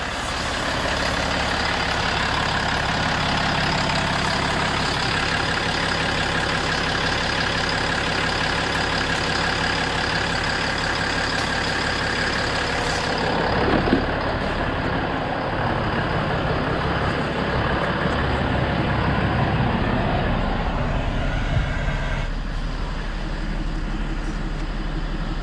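A Ram 4500 truck engine runs steadily after its first start-up following a transfer case explosion, a loud continuous rumble with a brief bump midway and a slight drop in tone near the end.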